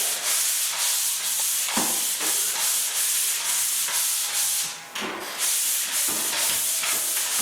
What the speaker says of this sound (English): The rough sanding of the ceiling